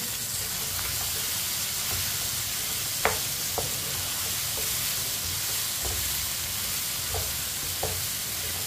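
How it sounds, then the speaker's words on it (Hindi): Chunks of potato and meat stirred in a hot pot for aloo gosht, a steady close sizzle and hiss of frying with occasional scraping clinks of the spoon, no voices. "आलू को भी ऐसे ही मिक्स करते हुए 2 मिनट के लिए पका लेंगे।"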